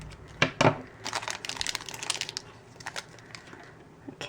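Scissors snip open the foil and plastic wrapping of a Kinder Surprise egg: two sharp cuts come first, followed by a few seconds of crinkling and rustling of packaging, close and fairly quiet.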